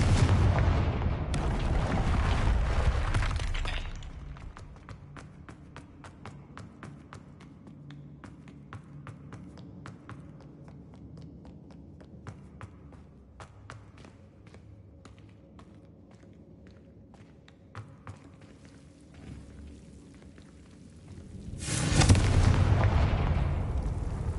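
A Confringo fire spell cast in a Harry Potter video game, bursting with a loud whooshing blast at the start, then a long stretch of sparse crackles and taps before another loud roaring burst near the end.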